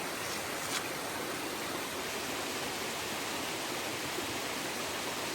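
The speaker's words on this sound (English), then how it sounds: "Nice little cascade over there." A small cascade roughly five to six feet high on a mountain hiking trail makes a steady, even rush of falling water, constant and moderately loud throughout with no other sounds.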